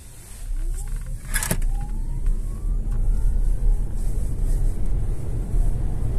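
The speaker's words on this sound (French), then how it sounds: "Alors, maintenant, tu vas accélérer à fond. À départ fond arrêté." A 2022 MG ZS EV electric car pulls away at full throttle from a standstill on a closed road, giving a rising whine that builds over several seconds under steady road and wind noise.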